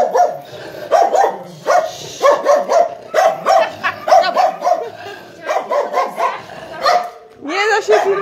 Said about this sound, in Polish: A Misiu jest głośnym pieskiem.